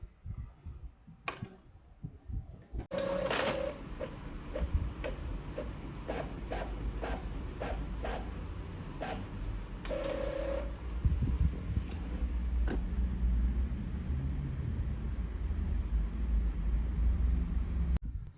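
An Epson L5290 inkjet printer prints a letter, giving a steady mechanical whir with repeated clicking and ticking as the paper feeds and the print head shuttles, close and continuous with no talking.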